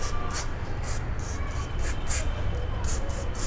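Carb cleaner sprayed from a can onto the throttle body of a Honda CBR 250 R motorcycle, a series of short hissing bursts in irregular rhythm over a low background hum.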